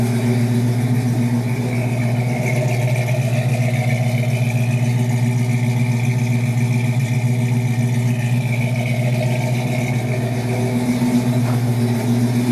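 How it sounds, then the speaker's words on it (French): A 1967 Mercury Cougar idles with a deep, steady rumble through a dual exhaust with Magnaflow mufflers and 2-inch pipes, loud and close, holding an even tone with slight swells. "Donc une double ligne d'échappement avec des silencieux Magnaflow et le tout en 2 pouces de diamètre"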